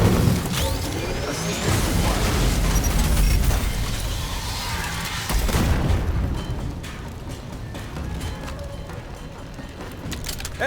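Deep, heavy grenade explosions boom in the sci-fi shooter game Aliens Fireteam Elite, one at the start and another about halfway through, each with a rumbling decay amid ongoing battle noise.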